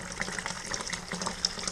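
Hot water pours steadily into a homebrewing kettle for a beer kit, a continuous close gushing and splashing of liquid.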